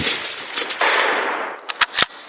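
A Tikka T3 laminated stainless rifle fires outdoors at targets, giving a loud broadband blast that decays over about a second, followed by a few sharp cracks and thumps close by.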